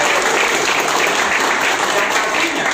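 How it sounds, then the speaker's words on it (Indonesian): A seminar audience at an Indonesian community meetup breaks into loud, sustained applause, a dense unbroken wash of clapping that holds steady throughout. "Tepuk tangan."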